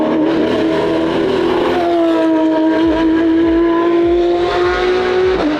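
A Ford Mustang is driven hard around a race track, its loud close engine holding a high steady note and rising in pitch as it revs through the gears, with no voices.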